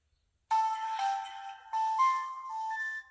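Startup melody of a Vodafone McLaren Mercedes Z720M retro mobile phone: a clear electronic jingle of sustained synthetic tones stepping through several notes over about two and a half seconds, alone in quiet.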